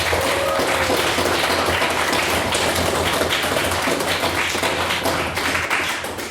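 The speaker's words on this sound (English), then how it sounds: "Can I please get another round of applause for a wonderful native speech?" Applause from a debating society audience after a speech, dense and steady at close range, with no voices over it, thinning a little near the end.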